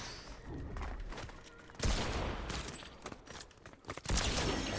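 Gunfire in the Fortnite battle royale game, several sharp bursts of shots spread across a few seconds, with louder volleys standing out over a busy background of game sounds.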